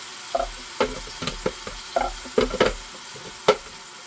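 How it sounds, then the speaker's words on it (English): Onions cook in a soup pot, a soft sizzle under a utensil stirring with several distinct scraping knocks spaced through the moment, close by and without speech. "we're going to start cooking these onions until they're translucent"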